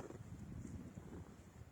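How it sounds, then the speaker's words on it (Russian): Blustery wind gusting up to 15 metres per second buffets the microphone in uneven gusts, a low roaring whoosh that swells and eases, with no one speaking. "Ветер, конечно. Порывы до 15 метров по интернету."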